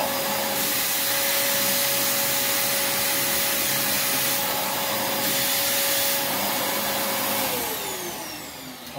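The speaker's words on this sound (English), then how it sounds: "I'll do my best to vacuum it, but I'm going to have to play with it a little bit." A Prolux X8 Elite backpack vacuum runs loud and steady while cleaning a mat in a sanctuary. A constant roaring whine holds a high tone that drops near the end as the motor slows.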